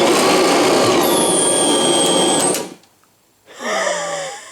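A 1984 Kirby Heritage II vacuum cleaner runs loud and steady, then chokes into near silence after sucking up a towel, before its motor roars back up.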